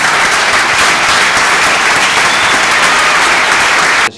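Loud, sustained audience applause from a crowd at a guaita renewal ceremony, dense clapping throughout before cutting off abruptly at the end.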